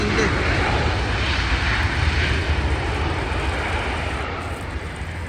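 A loud, broad jet-engine roar from an airplane passing overhead, steady and slowly fading toward the end.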